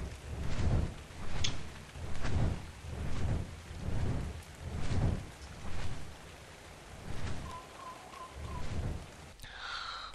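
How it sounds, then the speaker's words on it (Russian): Steady rain hisses in the game ARK while low rumbling swells roll in repeatedly, like thunder, with a faint tone and a sharp sound near the end. "Извините за дождь."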